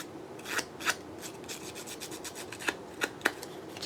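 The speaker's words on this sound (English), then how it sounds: "on the other sides, I'm just going to rough it up with my scissors" Scissor blades scraping and roughing up the edges of cardstock for an envelope pocket, a run of soft, close rasping strokes with a few sharper scratches, irregular in rhythm.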